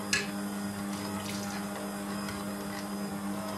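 Warm milk poured steadily from a half-full cup into dough for cinnamon rolls, a continuous close liquid trickle under a faint machine hum, with no talking.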